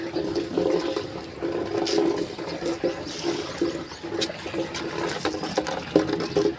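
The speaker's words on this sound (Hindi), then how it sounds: "ये गमला मन में पानी डाला थे" Water poured from a bucket into flower pots gushes and splashes in uneven surges, close and continuous, with a loud burst near the end.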